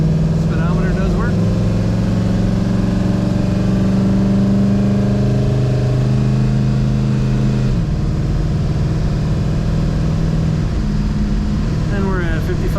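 A 1963 Studebaker Avanti R1 cruising at 55 mph, a loud steady engine drone with road and wind noise that holds even throughout, a brief shift in pitch midway, voices talking over it.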